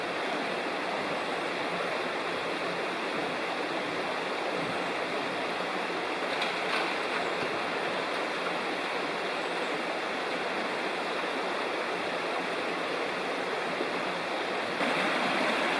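Steady rushing water of Little Gizzard Creek just upstream of Foster Falls in South Cumberland State Park, Tennessee, a constant broadband roar with no voices, loud and continuous throughout.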